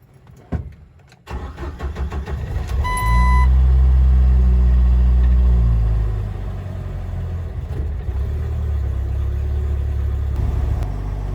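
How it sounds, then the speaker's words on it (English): A Jeep TJ engine cold-starts after a few faint clicks, cranking briefly before catching into a loud, high idle that roars for a few seconds, then settles into a steadier, somewhat lower idle hum. "First thing we got to do is start it up, and you'll see that it'll be the first start of the day"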